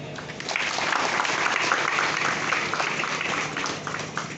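A church audience at a confirmation service in Teliposh Pastorate claps for newly confirmed members: dense, loud applause that swells after a brief start and carries on steadily to the end.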